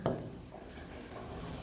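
Marker or chalk scratches across a board during a physics lecture, a faint, brief run of rubbing strokes with a sharper stroke at the start.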